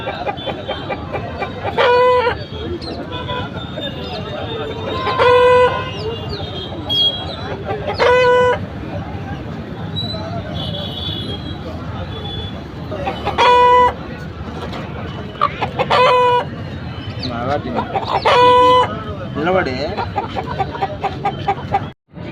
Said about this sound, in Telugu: వీడియోలో కనిపిస్తున్న కాకిటేక పుంజు